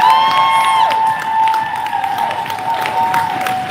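A crowd at a poetry slam festival in downtown Las Vegas claps and cheers steadily, with whoops and a few high shouts rising over the dense, continuous applause.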